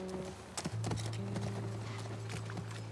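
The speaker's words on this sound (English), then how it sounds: "That's our horse." Horse hooves clip-clop in an uneven trotting rhythm in the video game The Last of Us Part I, moderately close, over a low steady hum with no talking.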